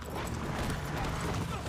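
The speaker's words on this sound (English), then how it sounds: "So you're gonna ride your horse through here." A horse gallops in the video game Uncharted 3, with a quick run of hoofbeats under game ambience and a voice talking over it.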